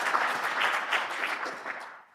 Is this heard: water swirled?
no